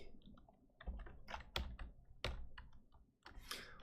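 Computer keyboard keys tapped while playing the roguelike game Dungeon Crawl Stone Soup, including the number pad keys, giving a quick run of soft, close clicks and taps with no talk.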